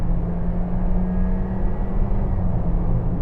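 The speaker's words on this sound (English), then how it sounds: "So I'm going to accelerate now from 50 miles an hour" Honda CR-V with a 1.5-litre petrol engine and automatic gearbox accelerates hard from 50 mph, a loud, steady low engine drone and road rumble filling the cabin with no talk over it.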